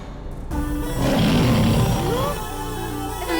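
A dubbed lion roar from a Hindi kids' cartoon rises loud and sustained, swelling in the middle before easing off, with some faint overlapping voice near the end.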